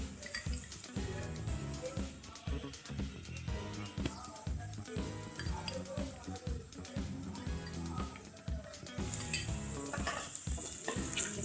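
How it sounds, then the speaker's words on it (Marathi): Chutney spice paste frying in oil with onions for a Kolhapuri mutton dish, a loud, continuous sizzle broken by rhythmic scraping and stirring strokes against the pan, close and without talk. "मसाला भाजून घेऊ तेलामध्ये चटणी टाकून घेऊया चार चमचे"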